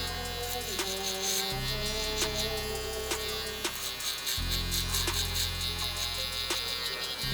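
An electric hair trimmer buzzes steadily while cutting a child's hair, its hum dropping and rising in pitch as it bites through the hair, with faint clicks along the way.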